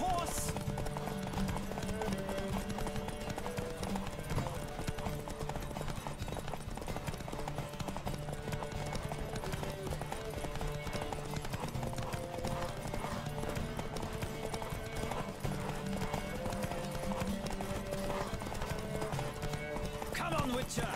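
Horses' hooves clatter steadily through a race in The Witcher 3, with a dense rhythmic clip-clop, occasional whinnies and game music beneath, while voices call out over it.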